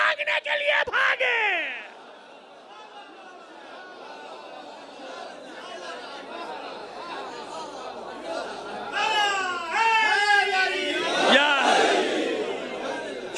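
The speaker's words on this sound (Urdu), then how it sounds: "شکر ہے کہ آپ نے نعرہ لگا دیا" A large audience at a Shia religious majlis gathering for Ayyam-e-Fatimah roars a slogan chant, starting with a loud opening shout, then a quieter crowd murmur, before voices swell again into repeated rising cries that build toward the end.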